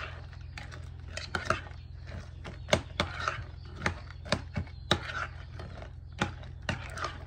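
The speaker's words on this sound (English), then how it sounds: "So I'm just going to stir that in really well as well." Spoon stirring crunchy granola chunks into a thick cookie butter dip, giving irregular clicking scrapes and soft crunches against the bowl, close and fairly quiet, with no talking.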